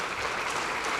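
Lawmakers in the National Assembly plenary chamber applaud as the president leaves after a budget address, making a brief, dense burst of continuous clapping that fills the room.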